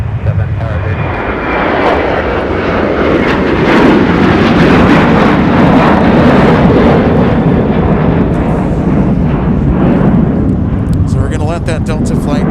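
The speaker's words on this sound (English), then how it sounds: "That Delta flight take off in the background" A Delta jet takes off at MSP airport in winter, a loud, steady jet engine roar rising and sustained throughout, with a voice talking over it.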